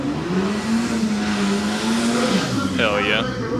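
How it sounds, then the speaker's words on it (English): A drag racing car does a burnout at a dragstrip, with loud sustained engine roar and tire squeal that shifts pitch near the end, and people talking over it. "Let's see this burnout."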